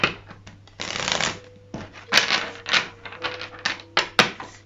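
Tarot cards shuffled by hand for a reading: several bursts of riffling and snapping card flicks, close and crisp, separated by short pauses and soft taps.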